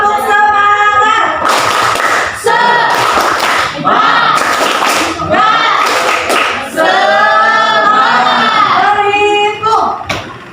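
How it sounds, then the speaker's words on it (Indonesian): A school class gives a rhythmic spirit clap, with bursts of patterned clapping broken by loud chanting voices, close and energetic throughout. "Tepuk semangat"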